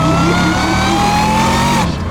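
A modified Jaguar British muscle car engine accelerates hard in a loud, steady rising drone that cuts off abruptly near the end.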